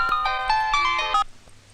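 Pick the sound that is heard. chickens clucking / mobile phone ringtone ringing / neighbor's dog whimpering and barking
mobile phone ringtone ringing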